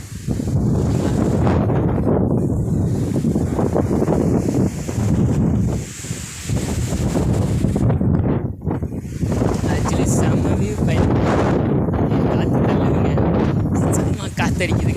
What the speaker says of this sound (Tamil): காற்றடிக்குதுங்க.